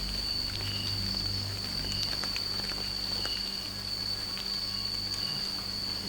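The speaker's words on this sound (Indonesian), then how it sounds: "Kayaknya hujan lagi teman-teman." Light night drizzle falls around a solo campsite, scattered drops pattering and ticking close by over a constant high insect-like drone.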